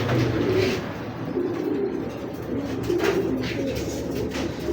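A racing pigeon coos softly in a few low, rolling calls nearby, set against a background of shuffling and ambient noise.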